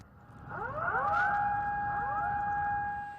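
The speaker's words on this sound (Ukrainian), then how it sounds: "А зранку японців підняли з ліжок уже тривожні сирени" Warning sirens wail in Japan after a strong earthquake, with several tones rising and then holding steady, fairly loud and sustained.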